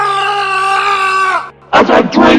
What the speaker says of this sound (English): the doctor screams in pain